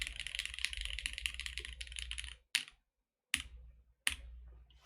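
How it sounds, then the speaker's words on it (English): Mechanical keyboard on a Bluetooth hot-swap PCB being typed on, a dense run of close, crisp bottom-out clacks that stops, followed by three isolated keystrokes with near-silent gaps between them. "there's just the bottom out sound and then nothing else"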